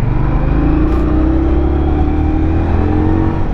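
A Ducati Scrambler 1200cc motorcycle engine revs loudly and steadily up close, its deep rumble rising slightly in pitch, with no talking over it.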